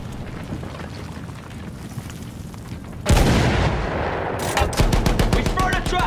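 Battlefield battle sounds: rumbling background combat, then a sudden loud artillery boom at about three seconds followed by sustained rapid machine-gun fire up close.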